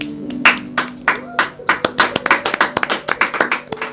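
A church congregation breaks into clapping, starting with scattered claps and building into rapid, dense applause close by, with faint voices underneath.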